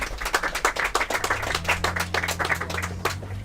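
Small audience clapping for a boys' soccer team at a restaurant gathering, a few dozen sharp hand claps in a loose, uneven rhythm, fairly close, with a low hum underneath.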